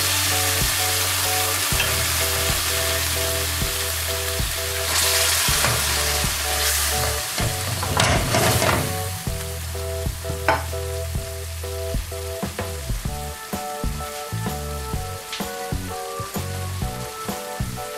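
Tomato sauce for ratatouille bubbles and sizzles in a pan, a steady crackling fry with irregular pops and occasional stirring clatter, heard up close with a faint tonal hum underneath.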